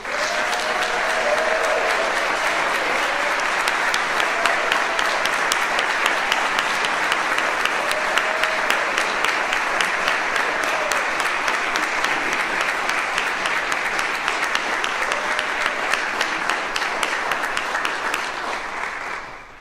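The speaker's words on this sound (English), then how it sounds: "a round of applause." An audience at an alumni achievement awards ceremony applauds in a sustained, dense round that lasts nearly twenty seconds and fades at the very end, with no talk over it.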